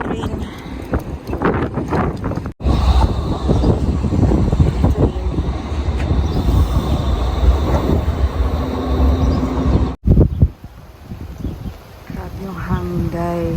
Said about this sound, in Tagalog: Dahil dumaan yung train.